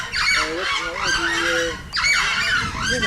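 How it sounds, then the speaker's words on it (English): A spur-winged goose, Africa's largest wild waterfowl, gives two loud, close honking calls in quick succession, each a harsh rising-and-falling burst with a short gap between. "the spur-winged goose is Africa's largest wild waterfowl"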